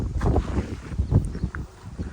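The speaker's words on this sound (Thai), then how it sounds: "ลมดีมากเลยครับวันนี้" Dry, steady wind gusting across an open kite-flying field in rural Thailand, a continuous low rumbling buffet against the microphone that swells and eases in uneven waves, with no voices.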